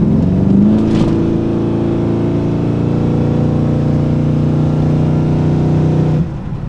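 A pickup truck engine runs steadily while driving, a loud and constant low drone that eases off slightly near the end, with no talk over it.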